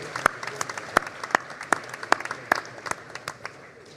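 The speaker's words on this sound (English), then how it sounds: "Join me in another round of applause to honor those who helped you attain your goal of becoming a university graduate." An audience at a university graduation ceremony applauds with sparse, sharp claps that carry over a hall's ambience and gradually thin out.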